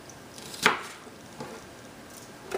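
A knife cuts through soft food on a cutting board during coconut curry prep, one clear chop near the start followed by a fainter tap and another light knock at the end, close and alone with no talking.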